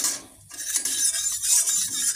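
A metal wok (kadai) set down on a home kitchen stove before frying small puti fish, heard as a run of close metallic clinks and scrapes that carries on for a couple of seconds with no voices.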